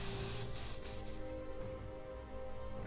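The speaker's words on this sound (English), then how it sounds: "we get spraying with the base coat" Paint hisses steadily from an Iwata Revolution HP-M2 airbrush laying down a base coat over masked markings, a continuous close spray with no talking.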